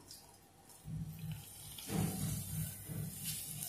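Grated coconut wrapped in white cloth is squeezed over a vessel to make coconut milk, producing soft wet squishes and trickling liquid in a few close, gentle pulses.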